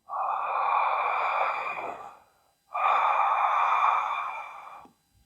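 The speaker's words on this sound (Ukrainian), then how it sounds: "повинен вийти повноцінний вдих і видих через стиснуту горлову щілину" Ujjayi breathing through a constricted throat produces two long, close, steady hissing breaths, a full inhale and a full exhale, each lasting about two seconds, separated by a brief pause.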